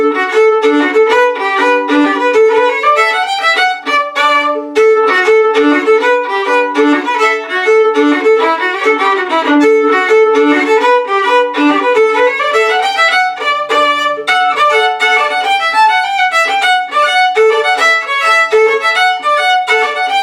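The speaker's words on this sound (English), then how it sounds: "this is Willowfjord, which is a Shetland reel" Willowfjord, a Shetland reel, is played as a lively, loud folk tune with quick running notes in a steady dance rhythm, alone without talk.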